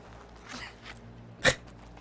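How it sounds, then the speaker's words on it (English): A single in-game sneeze from a character in Horizon Forbidden West, one short sharp burst rising out of a quiet ambient bed, preceded by a softer breathy stir. "People sneezing?"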